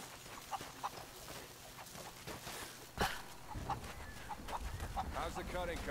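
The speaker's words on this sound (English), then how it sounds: "Catch chickens and throw them into the chicken pen." Chickens cluck in short scattered bursts in Rise of the Tomb Raider, a video game, over steady background ambience with louder, busier clucking toward the end.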